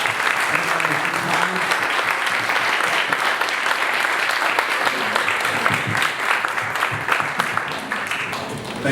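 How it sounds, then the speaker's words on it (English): Sustained applause from an audience at a community event in Savannah, dense and steady clapping throughout with some voices and cheers mixed in, loud and close. "I'd like to give these guys one more big round of applause."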